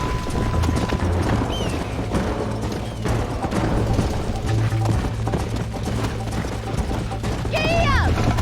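Horse hooves clip-clop at a steady gait in Red Dead Redemption, close and rhythmic under game music, with a brief whinny near the end.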